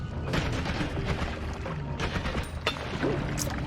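A video game explosion erupts in a burst of booming, crackling blasts and debris, loud and close, with bangs through the short stretch.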